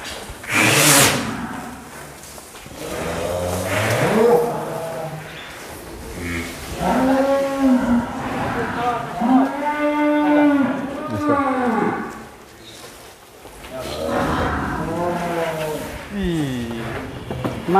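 Very large Angus cattle, including a huge bull, moo repeatedly in long, deep, rising-and-falling calls close by in a pen, with people talking around them.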